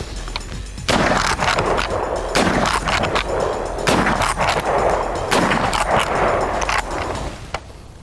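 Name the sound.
Winchester rifle firing hard cast lead at buffalo targets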